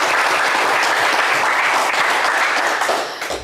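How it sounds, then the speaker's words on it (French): Studio audience applauding on a French television game show, a dense steady burst of clapping that stays loud throughout and tails off slightly at the end. "Bravo Stéphane, on vous applaudit très fort."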